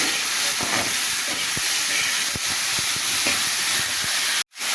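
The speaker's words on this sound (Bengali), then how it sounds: "এবার আমি ডুমুর দিয়ে দিলাম এবার একটু ভেজে নেব" Figs fry in a pan, making a steady close hiss with soft irregular spatters. The sizzle cuts out abruptly just before the end.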